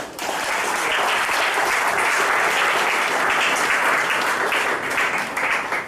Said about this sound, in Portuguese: Você pode aplaudir essa verdade?